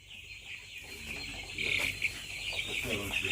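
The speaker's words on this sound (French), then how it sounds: "Regardez bien comment sont ces poulets." Broiler chickens around three weeks old cluck and chirp in a poultry house, with a busy layered chatter from the flock and faint voices underneath.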